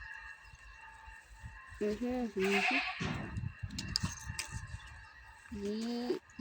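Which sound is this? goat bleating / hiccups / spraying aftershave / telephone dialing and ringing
goat bleating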